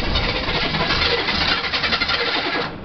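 Diesel engine with glow plugs, an old machine used at maple syrup time, cranking and trying to start in a loud continuous chugging churn that drops off at the end.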